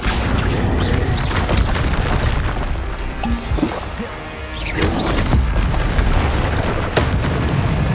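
Heavy booms and crashing bursts from the Bombarda explosion spell in Hogwarts Legacy roll through a continuous loud combat soundscape, several impacts overlapping without pause.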